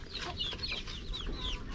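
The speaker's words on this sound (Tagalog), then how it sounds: "nandyan na yung mga manok natin" Chickens in a range area, a busy overlapping flock of clucks and high chirping calls, close and steady over a low rumbling background, with no voices.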